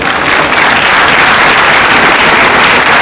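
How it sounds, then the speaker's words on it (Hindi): Audience at a state-level World Red Cross Day celebration clapping loudly for a doctor, a dense, steady round of applause that fills the room without talk. "जोरदार ताली डॉक्टर के लिए"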